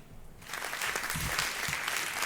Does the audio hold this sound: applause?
yes